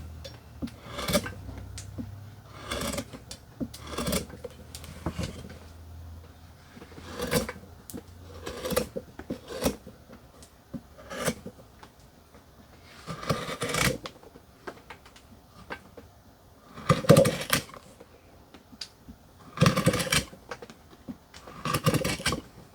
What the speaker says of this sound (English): I'm going to make a shallow trench down the middle,